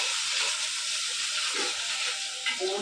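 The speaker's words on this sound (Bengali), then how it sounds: "এটা ভালোভাবে ভাজিয়ে নিই" Onions and whole spices such as cardamom, cloves, peppercorns and bay leaves fry in hot oil for biryani, giving a steady close sizzle and hiss that runs unbroken throughout.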